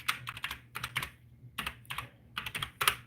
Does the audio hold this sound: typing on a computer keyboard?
yes